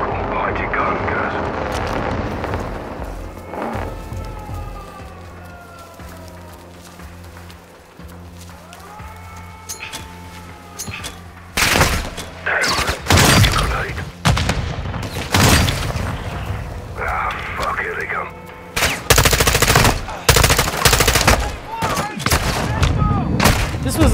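Machine gun fire in Call of Duty: Modern Warfare II combat, loud repeated bursts of rapid shots in the second half after a quieter stretch with vehicle and aircraft drone, with someone talking in between.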